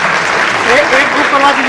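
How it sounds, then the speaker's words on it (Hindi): Hand clapping from the audience at the staging of the play "Gaj Foot Inch", a sustained, moderately loud round of applause with a few voices and whistle-like cries audible through it. "आप लोग मेरे लिए ताली लगा दीजिए,"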